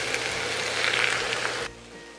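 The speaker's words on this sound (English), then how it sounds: "Let me just saute this in some water." Onion and frozen corn sauté in water in a pan with a loud, steady hiss of sizzling that stops abruptly near the end, leaving a faint quiet room.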